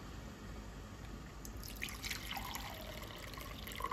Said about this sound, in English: Now you put half glass of water.